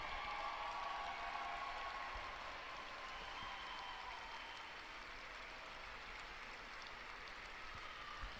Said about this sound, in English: the Castleford Tigers take the applause from the fans